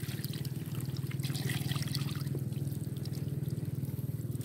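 Water is poured over sago pulp during kneading in Werinama, a steady close trickling and splashing stream that runs continuously with no talk.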